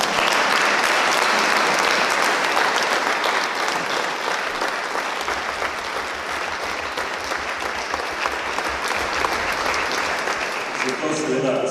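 A large audience at the opening of the European Film Festival in Brežice breaks into loud, sustained applause that fills the hall and holds steady throughout.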